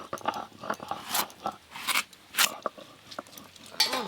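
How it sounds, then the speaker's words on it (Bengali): A knife crunches and scrapes through a soft, ripe ash gourd in a home kitchen, giving a series of close, crisp cutting crackles at an uneven rhythm with no talking. "আজকে চাল কুমড়োটা কেটে নেব আগে।"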